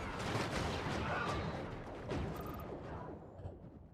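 Distant battlefield gunfire in a Star Wars Battlefront 2 mod sounds as a dense, rumbling fusillade of overlapping shots and blasts, fairly faint and continuous, with a few sharper cracks.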